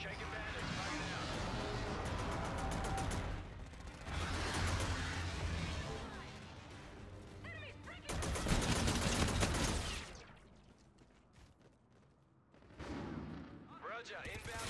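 Gunfire and explosions in the Call of Duty Infinite Warfare video game, dense rattling bursts and booming blasts that run almost continuously, easing briefly before resuming, with voices speaking over them.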